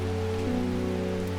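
Rainy ambience in the game Strange Horticulture, a soft steady patter of rain over a low sustained hum, brief and even with no voices.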